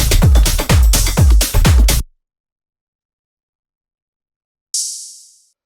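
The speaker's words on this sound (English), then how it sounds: "And then finally, we have this little tech house hi-hat, which sounds like this." A tech house hi-hat percussion loop plays several crisp, bright hits for about two seconds, then falls silent, ending with a single fading hiss-like hat near the end.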